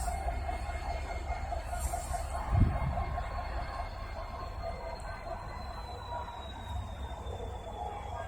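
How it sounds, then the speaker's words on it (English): Amtrak train rolling through the Norfolk Southern Kinney yard connector, a continuous low rumble with a faint sustained wheel squeal, a brief thump partway through and birds chirping in the distance. "Is that maybe another Amtrak that came down?"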